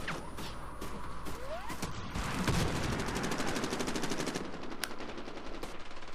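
Sustained rapid machine-gun fire aimed at a helicopter in the multiplayer shooter game Medal of Honor Warfighter, loud and close, with dense bursts overlapping other gunshots and rotor noise.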